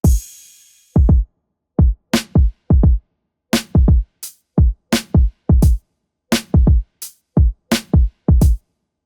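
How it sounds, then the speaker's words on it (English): Programmed drum pattern with kick, snare, hi-hat and crash in a hip-hop beat, loud punchy hits in a steady rhythm separated by silent gaps, a crash ringing at the start, alone without any voice. "a kick, a snare, a hi-hat, and a crash has been used,"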